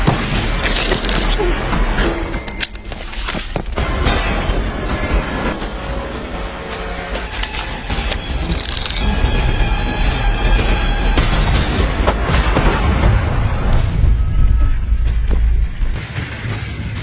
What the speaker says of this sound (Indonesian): Mendengar ledakan hebat di pom bensin